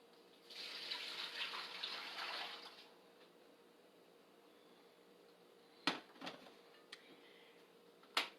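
Half a gallon of water pours into a stock pot for homemade laundry soap, a brief splashing burst up close, then quieter room tone and a few sharp clanks of the pot.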